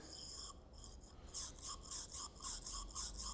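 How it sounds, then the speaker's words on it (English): Brake cleaner is scrubbed around inside oil holes of a supercharged Alpina B7 engine during a rebuild, giving faint, rhythmic bristly scrubbing strokes, close up with no talking. "So I'm putting some brake cleaner in there, then agitating,"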